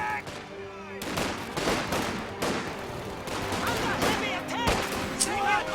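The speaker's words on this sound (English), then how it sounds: "MG42 turns to fire on that squad." MG42 machine gun in Company of Heroes rips off repeated loud bursts amid battlefield gunfire, with a narrator talking over the shooting.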